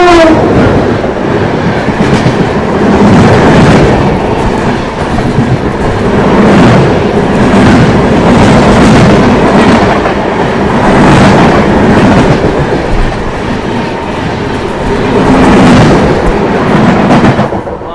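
The 12753 Marathwada Sampark Kranti Express is heard from on board, running fast along the track with a loud, continuous rumble and rhythmic clickety-clack of wheels over rail joints.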